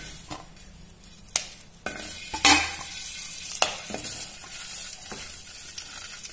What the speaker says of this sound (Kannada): ಸ್ವಲ್ಪ ಎಣ್ಣೆ ಹಾಕ್ತಾ ಇದೀನಿ ಹುರಿಲಿಕ್ಕೆ ಅಷ್ಟೇನೆ